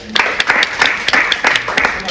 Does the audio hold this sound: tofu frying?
no